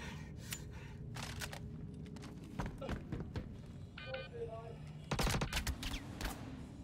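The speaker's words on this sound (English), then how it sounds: "He's shooting me through the wall." Bursts of gunfire in the Star Citizen video game, sharp shots fired in short, separated volleys with quieter gaps and a brief tonal beep between them, a louder cluster near the end, faint in places.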